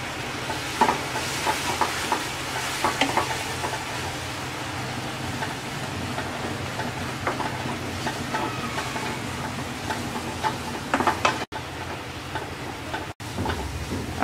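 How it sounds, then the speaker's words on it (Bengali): Gulgula pitha filling with cardamom powder is stirred in a pan over low heat until thick and sticky, making a steady close sizzle with continuous scraping and stirring and two brief dropouts near the end. "এবার অল্প আঁচে জাল দিয়ে একদম আঠালো করে নেব।"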